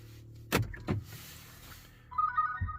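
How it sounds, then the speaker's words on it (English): A Hyundai Tucson is locked after getting out: two solid clunks of the door and lock mechanism close by, then a short electronic chirp from the car and a final soft thud, in a quiet garage-like setting. "when you get out the car and lock it"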